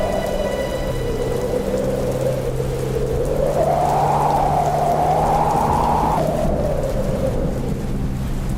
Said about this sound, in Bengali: তখনই বৃষ্টির সাথে প্রবল হাওয়া শুরু হয়